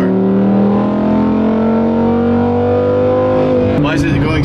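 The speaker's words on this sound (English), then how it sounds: "there's something wrong with my car. It doesn't accelerate" Car engine revving hard with the pedal floored but the car barely gaining speed, a loud sustained drone of rising harmonics that shifts abruptly near the end, with a voice talking over it.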